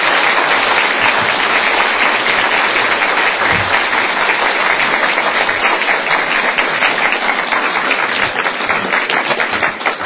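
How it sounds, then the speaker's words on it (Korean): A church congregation gives loud, sustained, dense applause to welcome a deaconess stepping up to share her testimony, clapping continuous and close with no talking. "우리 권사님 뜨거운 박수로 환영해 주시기 바랍니다"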